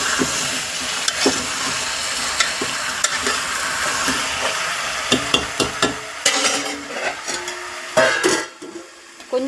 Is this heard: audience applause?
no